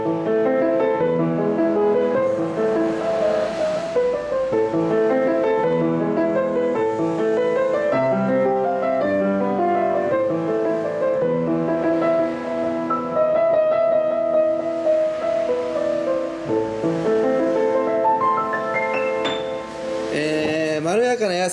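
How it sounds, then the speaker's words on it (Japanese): A brown Diapason upright piano, model 29092, plays a continuous melodic piece with rich chords and a mellow, soft, slightly muffled tone, close and steady throughout with no talking. "これが茶色いディアパソンの音です"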